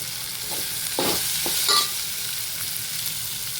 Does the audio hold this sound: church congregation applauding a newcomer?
no